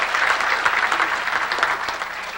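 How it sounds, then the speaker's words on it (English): A round of applause for returning board members at a church leadership gathering, with steady, close clapping from a modest crowd and no talk over it. "Let's give the returning board members a round of applause for their work."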